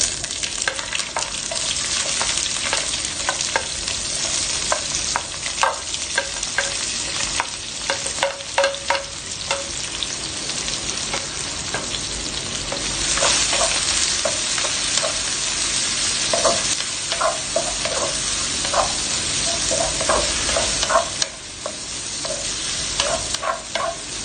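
Onion, chili and garlic frying in a pan while being stirred, a loud continuous sizzle broken by repeated scraping strokes of the utensil, with no talking.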